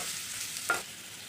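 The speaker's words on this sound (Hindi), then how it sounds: "इसको अच्छे से सौते कर लेना है।" Diced carrot and green capsicum sauté in a pan for masala noodles, giving a soft, even sizzle throughout with one brief clink of a utensil near the middle.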